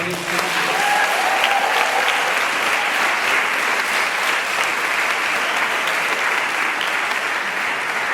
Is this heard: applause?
yes